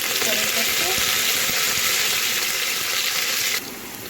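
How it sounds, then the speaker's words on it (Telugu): Onions hit hot oil for tempering, a loud, dense, continuous sizzle up close that drops slightly in the final half second. "ఇప్పుడైతే ఆయిల్ వేడెక్కాక ఆనియన్ తాలింపు పెడుతున్నానండి"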